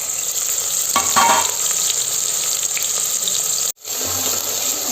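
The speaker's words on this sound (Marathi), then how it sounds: "तेलात परतून घ्यायचा कांदा आणि जिरं" Onion and cumin seeds fry in hot oil, a steady broadband sizzle filling the whole stretch, with a brief stir or scrape near the one-second mark and a short cut in the sound just before the end.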